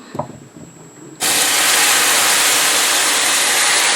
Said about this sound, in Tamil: இப்போ இதுக்குள்ள நான் இந்த கொதித்த தண்ணியில் விட போகிறேன்.